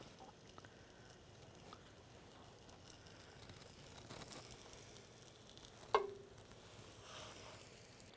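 Food sizzles steadily in a frying pan as it browns on each side, a soft, even hiss with one brief clatter partway through and no voices.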